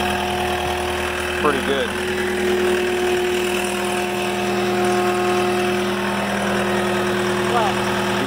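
A skid steer engine runs at a steady idle-like drone with a low hum and faint whining tones, continuous throughout, while a person says a few words over it.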